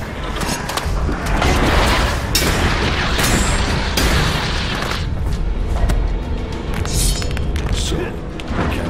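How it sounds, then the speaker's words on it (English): A loud explosion booms through a combat scene in the video game Elex, with heavy thuds and crashing debris rumbling steadily across the whole stretch. "That's an explosion."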